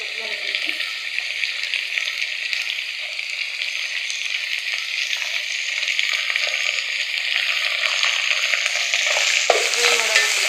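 Onion, tomato and coriander fry in a pan for rava uppittu, giving a loud, continuous sizzle that builds slightly over time. Scraping stirs are woven through it, and a sharper clatter comes near the end.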